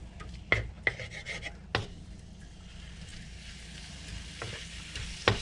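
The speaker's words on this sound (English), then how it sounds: "we decided to have a little stir fry for supper today" Stir fry cooking indoors in an electric wok, a soft background sizzle broken by several sharp utensil scrapes and taps, fairly quiet and close, with no talking.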